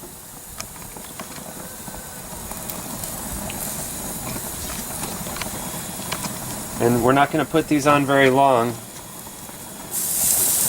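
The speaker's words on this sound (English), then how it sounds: "You can hear it sizzling, which is always a good sound." Shrimp sizzle on a barbecue grill, a steady close hiss running through the whole clip while a person talks briefly partway through.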